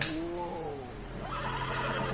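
A horse neighs and whinnies in Red Dead Redemption 2, a loud, wavering cry that falls in pitch over about a second, followed by snorting and low game ambience.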